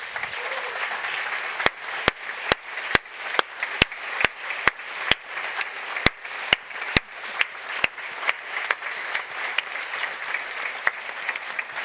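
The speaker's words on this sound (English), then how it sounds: "A big applause." Conference audience applause on a center stage, a steady bed of crowd clapping punctuated by sharp, regular loud claps close by, continuing evenly for the whole stretch.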